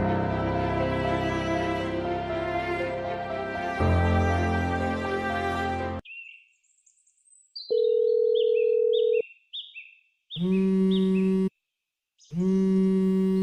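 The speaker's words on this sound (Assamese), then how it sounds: "উফ, কোনেতো ফোন কৰে?" Electronic phone ringtone in a domestic setting, beginning around the middle as clean synthetic tones and repeating in loud bursts with short pauses, following a stretch of dense music.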